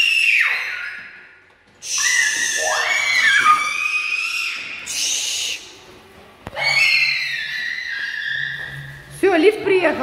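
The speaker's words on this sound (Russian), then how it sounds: "Вот они в подъезде кричат у меня, как будто первый раз на свободу вышли." Children shout and scream in an apartment building stairwell, high shrill cries and squeals echoing in overlapping bursts with short pauses between them, loud and close.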